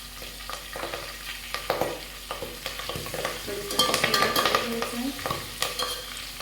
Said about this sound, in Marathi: त्यात मी आता थोडी कोथिंबीर आणि कढीपत्ता टाकणार आहे.